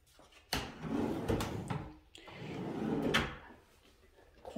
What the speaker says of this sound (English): Quiet closed drawers.